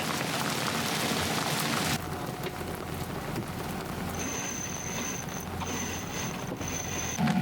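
Rain falls steadily during a boat trip from the Aeolian Islands toward Greece, giving a constant hiss that is louder in the first two seconds, then softer with a faint tonal whine in the background.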